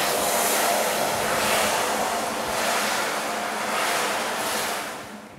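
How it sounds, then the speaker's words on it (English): Water poured into hot caramelised sugar to deglaze it for a lemon and gold chocolate tart gives a loud, steady hiss and sizzle that lasts throughout and fades toward the end. "so I'm going to deglaze it by adding in the water."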